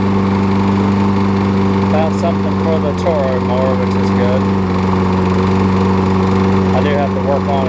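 Toro push mower engine running steadily with a low droning hum and occasional sputters, close by, with a voice talking intermittently over it.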